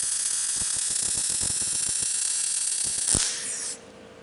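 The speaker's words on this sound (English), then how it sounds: "Let's weld this other side." MIG-style welding on a steel roll-around shop vise stand: a steady frying crackle with sharp irregular pops runs close and loud for about three seconds, then cuts out into a fading hiss.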